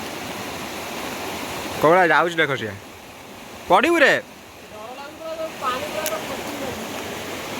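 A waterfall in a forest among the hills of Mayurbhanj gives off a steady rushing roar through the whole stretch, mostly buried under bursts of a voice and other talk.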